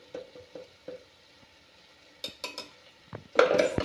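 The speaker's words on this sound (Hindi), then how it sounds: "हम सारे मसालों को अच्छे से मिक्स करेंगे।" Spices for chana masala, including turmeric, Kashmiri red chili and sabzi masala, are stirred in a pan, giving soft scrapes followed by sharper spoon clinks against metal and a final cluster of clatter.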